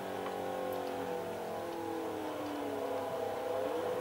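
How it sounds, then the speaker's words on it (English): A racing car engine in the video game Forza 4 at Hockenheim drones steadily at moderate volume, its pitch gradually rising and falling as it brakes and speeds up, with no voices. "Before that point, Chris is braking."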